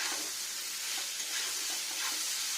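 Ridge gourd is tossed into a pan of fried spices for a paneer dish, producing a steady, moderate sizzling hiss with soft stirring scrapes throughout and no voices.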